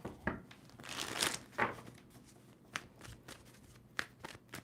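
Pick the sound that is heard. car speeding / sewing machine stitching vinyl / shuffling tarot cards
shuffling tarot cards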